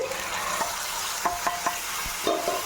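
Raw banana slices with masala and curry leaves are sautéed and stirred in a pan, giving a steady close sizzle broken by several sharp spoon scrapes and knocks, with no talking.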